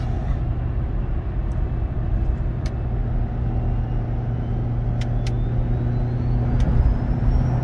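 Diesel truck with compound turbos cruising on the interstate at about 75 mph, a steady loud low rumble of engine and road noise heard from inside the cab, with a few faint clicks.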